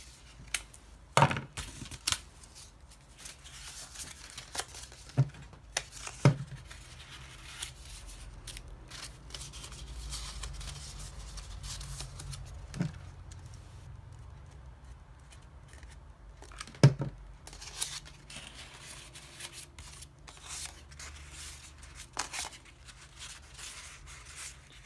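Scissors snipping paper while a giant camellia paper flower is made, with scattered sharp cuts and rustling handling sounds spread over quiet stretches, close and soft, with no one talking.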